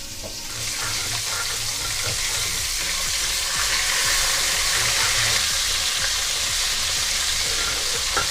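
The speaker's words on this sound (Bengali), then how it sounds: "মাছটা আমি এখানে ঢাকা দিয়ে দিয়ে ভাজবো" Scaleless pangas fish frying in hot oil under a covered pan, giving a dense, continuous sizzle with busy crackling and spattering that holds steady throughout.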